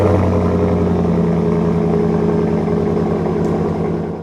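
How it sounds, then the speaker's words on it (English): A gas pickup truck's exhaust drones loud and close at a steady pitch as it revs, then eases off at the very end. "I do like the exhaust note of a gas truck."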